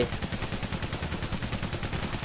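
Rapid, continuous gunfire and booming artillery shots rattle steadily throughout Valiant Hearts: The Great War, a dense First World War barrage with no voices.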